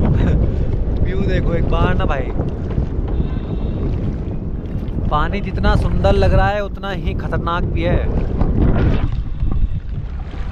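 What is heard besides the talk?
strong wind while boating on Nainital lake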